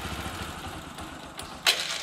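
A second-hand vehicle's engine turns over and runs with a low, steady rumble close by, then a sharp louder burst near the end as it catches or revs.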